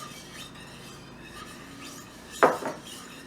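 Metal whisk scraping around a skillet as sugar is stirred into melted butter, a quiet scratchy rasp with a brief louder clink-and-scrape burst near the end.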